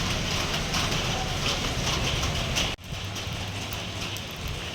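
Steady rain falls, a dense even hiss with a brief dip in the middle, continuing close and moderately loud.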